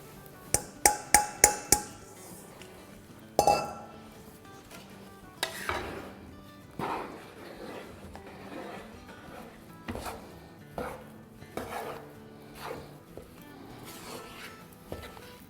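Whole wheat flour is roasted and stirred in a pan over a low flame. A metal spoon scrapes and knocks against the pan, starting with a quick run of sharp taps and then settling into irregular stirring clatter close by.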